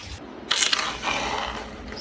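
A carved piece being sanded with a flexible-shaft rotary tool: bursts of rough, hissing abrasion with scratchy scraping, moderately loud and close, rising and easing over a couple of seconds with no talking.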